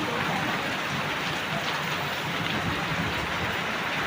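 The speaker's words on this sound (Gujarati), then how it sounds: "જોરદાર વરસાદ ચાલુ થઈ ગયો." Heavy rain pours down in a dense, continuous hiss that stays loud and even throughout, with no voices.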